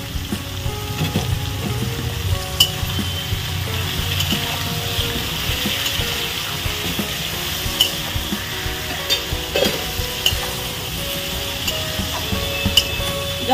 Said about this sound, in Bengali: চলো ঢাকা দিয়ে দিয়ে আলুটাকে ভেজে নিই।